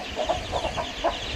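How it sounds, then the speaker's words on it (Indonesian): Free-range village chickens cluck in short, repeated soft calls at a moderate distance, over a steady hiss of ambient noise. "Nah, itu ayam kampung semua."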